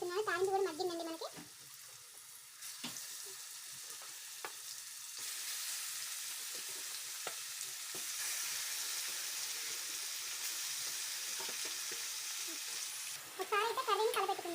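Marinated chicken with tomato hits hot tempering oil for a chicken curry, giving a loud, steady broadband sizzle that holds for about ten seconds, with a person talking briefly just before and again as it ends.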